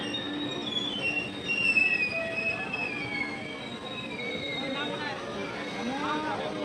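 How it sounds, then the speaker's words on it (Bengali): The Kamakhya Brahmaputra Mail, train 15657 from Old Delhi, pulls into a station with a steady rolling rumble and long high wheel squeals, while people talk and chatter in the background. "দেখো এদিক দিয়ে ঢুকছে এখন 15657 পুরনো দিল্লি"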